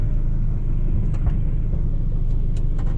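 A car with worn coilover suspension rumbles along the road, its engine a low, steady drone with road noise, and a few brief higher rattles or clicks appear midway and near the end.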